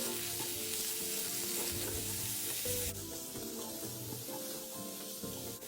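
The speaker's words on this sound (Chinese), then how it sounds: "接着再将预先备好的肉末一起倒入拌炒，直到肉末颜色转白" Minced pork stir-fries in a wok with soaked dried shrimp, a steady close sizzle with spatula stirring throughout, easing slightly partway.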